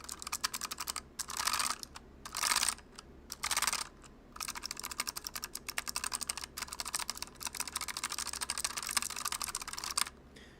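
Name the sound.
typing on a clicky mechanical keyboard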